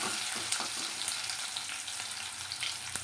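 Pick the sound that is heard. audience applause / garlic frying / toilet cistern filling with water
garlic frying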